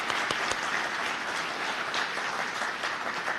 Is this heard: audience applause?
yes